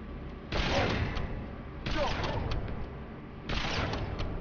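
Gunfire in the video game Halo 3 ODST, with three loud bursts of shooting about a second long each, repeating at a steady pace over constant background game noise.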